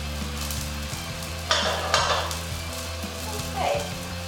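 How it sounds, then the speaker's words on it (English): Carrots sizzle in a cup of stock in a stir fry pan, a steady close frying hiss with a couple of louder bursts as the food is stirred, and a background hum running underneath. "So I took a cup of that stock, and I'm using some of that to get my carrots started."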